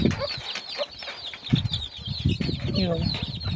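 Repeated clucking from a mother hen guarding a large brood of chicks, with high peeps above and low, close clucks in an irregular rhythm, accompanied by faint background murmur.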